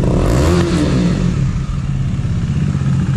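A KTM Duke 250 motorcycle engine revs close by, a quick throttle blip rising then settling into a deep, throbbing idle.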